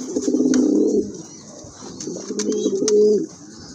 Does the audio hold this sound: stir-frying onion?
no